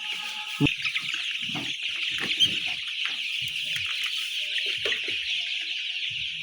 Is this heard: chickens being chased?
yes